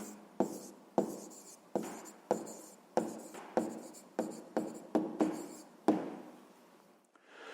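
Writing out the final answer to a 6th-grade math word problem by hand: a steady run of about a dozen short, scratchy pen strokes, evenly paced and close, followed by a softer trailing scribble, with no voices.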